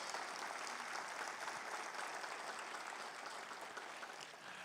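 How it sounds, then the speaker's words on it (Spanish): Dense church congregation applause, a thick continuous clatter of many hands that holds steady and tapers slightly at the end, with no talk over it. "Fuerte ese aplauso a Dios."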